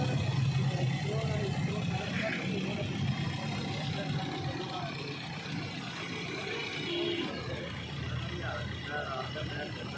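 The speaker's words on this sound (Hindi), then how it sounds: "ये इंजन गाड़ी के अंदर रखने के बाद स्टार्ट कर दिया गया है" A freshly overhauled Toyota Corolla XLi/GLi engine, refitted in the car, idles steadily after starting, giving a constant, even hum with a bit of rattle, while someone talks over it.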